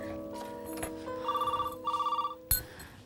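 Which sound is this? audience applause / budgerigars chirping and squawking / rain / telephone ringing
telephone ringing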